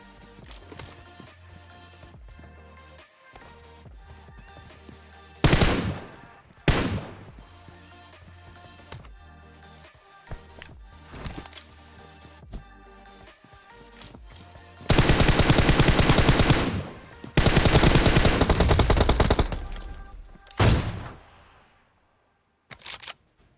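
Gunfire in a video game comes in repeated loud bursts, from single shots to long sustained automatic volleys, close and dominant against a quieter game background.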